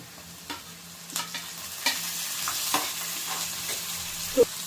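Chopped tomato tossed onto onions browning in oil for egg bhurji, with a low steady sizzle punctuated by a handful of sharp stirring clacks and scrapes against the pan.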